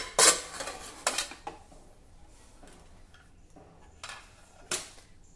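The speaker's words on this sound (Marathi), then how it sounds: "कुकर थंड झाला आहे, आता आपण हा उघडून घेऊ।" A cooled pressure cooker is opened, with a sharp metallic clank of the lid at the start and a few lighter clinks and taps of utensils following quietly.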